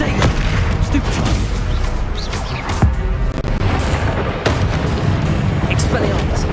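A Confringo blast spell in the Hogwarts Legacy video game, a dense, sustained roar of booming explosions and crashing impacts that fills the whole stretch, loud and continuous with no clear breaks.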